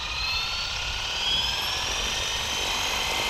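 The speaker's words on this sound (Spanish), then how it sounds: "Y empieza el helicóptero a trabajar" A Flywing FW450L V3 RC helicopter runs steadily with a high, whining rotor and motor drone that holds level throughout, fairly close and alone without talk.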